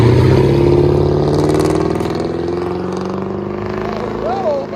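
Straight-piped V8 engine in a 2007 Infiniti M45 idling loudly up close, a steady deep rumble with a slight lope, no talk over it.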